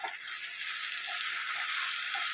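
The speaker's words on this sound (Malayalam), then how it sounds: "ഇത് നന്നായി മിക്സ് ചെയ്യുക." Fish masala of shallots and ginger-garlic paste sizzles steadily in a pan while being stirred, a continuous bright hiss with a few soft scraping touches, close and alone.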